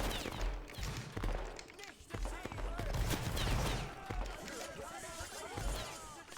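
Musket volleys in a Napoleonic-era battle video game pitting Prussian lines against Swiss troops, dense crackling fire with overlapping shots and booms, mid-distance and chaotic, with voices talking over it.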